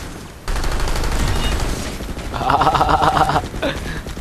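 Gunfire in the online shooter PlanetSide 2: dense bursts of automatic weapon fire and impacts fill the mix, loud and continuous with a brief quieter start, no talk over it.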